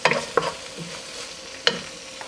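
Onions stirred with rice wine in a frying pan for a chicken stir fry with orzo: a few loud scraping stirs over a soft, steady sizzle, with one sharp clack near the end and no talking.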